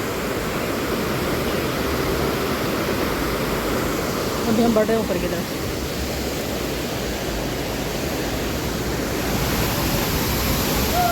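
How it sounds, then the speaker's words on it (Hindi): A waterfall in the hills near Gangtok, Sikkim, pours as a steady, broad rush of water filling the whole clip, with a voice speaking briefly over it midway. "और ये झरना दिख रहा है"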